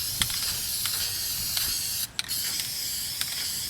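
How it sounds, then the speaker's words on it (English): Self-etching primer hisses steadily from an aerosol spray can at close range, with one brief break and small clicks of the nozzle partway through. "I will spray this on a couple of coats and let it dry to the directions of the can"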